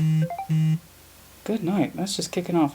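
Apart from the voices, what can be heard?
mobile phone notification sounds, phone not silenced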